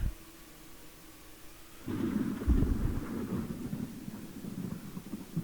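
A thunderclap in a GPRO 2002 F1 racing game, a French Grand Prix round, breaks in as a loud low rumble that swells and rolls on over steady background noise, with no talking.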